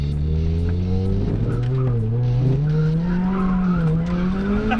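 A turbocharged car skids around a skid pan under the handbrake, its loud engine drone rising and falling in pitch against a continuous, wavering tire squeal heard up close.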